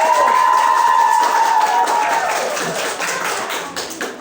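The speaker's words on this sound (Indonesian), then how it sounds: "Beri aplaus yang meriah untuk para regu." An audience claps and cheers for the competing teams, a loud dense wash of applause with a whistle near the start that gradually thins out.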